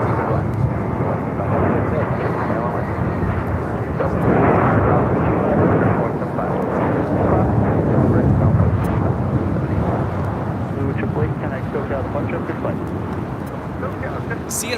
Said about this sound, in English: JetBlue A321 rolling down 25 right.